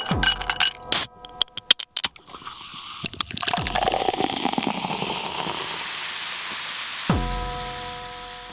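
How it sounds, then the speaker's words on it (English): Water poured into a cup: a few sharp clicks and knocks, then a steady, rushing pour lasting several seconds that ends abruptly, heard up close with no speech. "pour me a cup of water"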